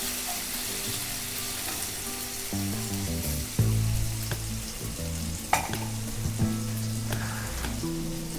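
Ginger and green chili paste hitting hot oil for a samosa filling, a dense crackling sizzle throughout with a few sharper pops and stirring scrapes.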